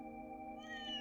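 Short cat meow in the video game Trails Through Daybreak 2, a single bright call rising over a steady hum of game background music, brief and moderately faint.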